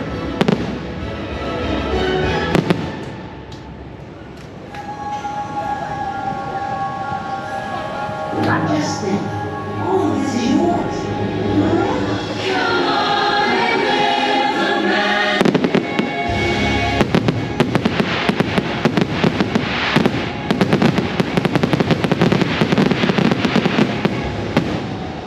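A vibrant fireworks display goes off outdoors at night, with loud bursts that turn into dense, rapid crackling and popping toward the end, while people talk over it.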